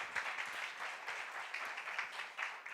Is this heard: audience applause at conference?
yes